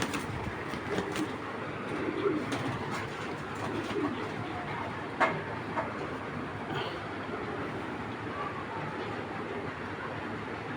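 Racer pigeons coo softly in a noisy loft, their low murmuring calls blending into a steady background rumble with occasional sharp clicks.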